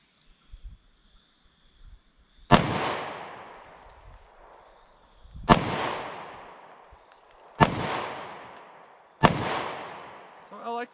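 A .327 Federal Magnum snubby revolver loaded with Hornady Critical Defense rounds fires four loud, sharp shots at slow, uneven intervals outdoors, each blast followed by a short echoing decay.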